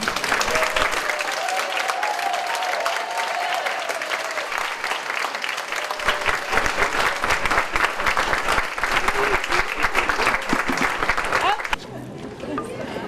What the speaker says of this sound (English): Let's give a large round of applause for Dr. Johnson.